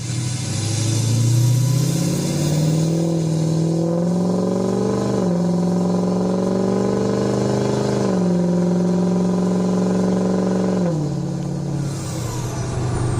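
Loud pickup truck fitted with an exhaust stack driving with the back window open, its engine droning steadily and shifting pitch between gears throughout, close and continuous with no talking.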